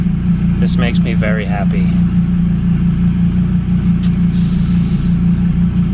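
A Gen 5 Dodge Viper engine idles steadily with a deep, constant rumble close by, while someone speaks briefly over it.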